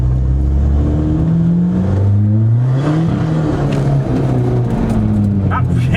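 Engine of a Skoda Fabia vRS tuned past 300 bhp revs and pulls under load, a loud droning note climbing and shifting in pitch, with people talking over it inside the car.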